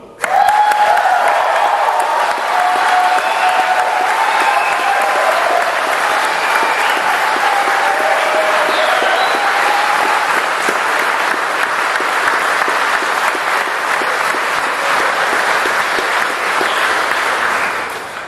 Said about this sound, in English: a lot of clapping and hooting and whistling is in order